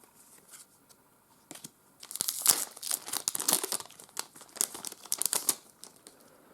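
Close, crisp crinkling and tearing of a plastic Star Trek CCG booster pack wrapper, starting with a few light rustles and then building into dense, irregular crackling bursts.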